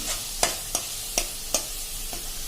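Potato and pea curry spices sautéing in tomato gravy, with a low steady sizzle broken by about six sharp spoon-against-pan stirring clacks at a fairly even pace.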